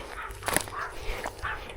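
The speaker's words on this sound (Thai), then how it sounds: "หมาเห่า" A dog barks a few short, moderately loud yips and barks outdoors near a fishing spot, with faint background noise between them.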